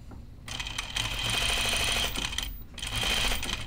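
A sewing machine stitches fabric in rapid, even bursts, running in two stretches separated by a brief pause, close and clear with no talking.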